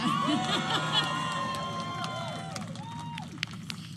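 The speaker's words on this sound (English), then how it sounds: "Yeah, you can clap, that's all right." A rally crowd at a Harris campaign event in New Hampshire claps and cheers, with raised voices and shouts blending into a continuous, fairly close wash of noise.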